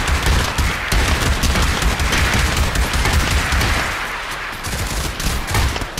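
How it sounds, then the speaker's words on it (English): Shotgun blasts in a VR zombie shooter game, rendered as a dense, loud, continuous volley of rapid gunfire with barely a pause, close and unaccompanied by speech. "Oh, time to bring up my shotgun."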